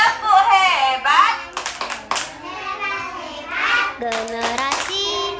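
A class of young children chants together and claps in short bursts for the 'tepuk hebat' clapping routine, two quick clusters of sharp claps set within their sung voices.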